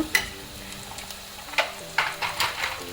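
Curry powder spices frying in a pan for a potato tomato curry, a soft steady sizzle broken by a few sharp clinks and scrapes of a stirring spoon against the pan, with no voices.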